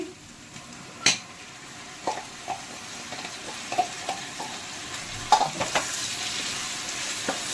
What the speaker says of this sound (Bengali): আলু লাল লাল করে ভাজা হয়ে গেছে এবার এর মধ্যে দিয়ে দেবো এই মশলাটা যেটা পেস্ট করে রেখেছি